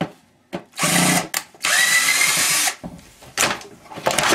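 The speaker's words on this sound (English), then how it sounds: "Let me unscrew this." A handheld power drill unscrews the casing of a battery charger being scrapped, whirring in several short bursts of varying length with brief pauses between, close up and with no talking.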